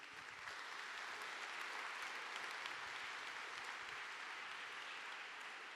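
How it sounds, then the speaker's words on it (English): Audience applause at a Ukrainian Independence Day 2024 event, a dense, steady wash of many hands clapping at a distance, sustained evenly for the whole stretch without voices on top. "A big round of applause, please, everybody."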